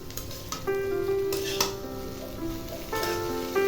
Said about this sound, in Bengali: সবজিগুলোকে দিয়ে দিলাম এবার ভালো করে নাড়াচাড়া করে নিয়ে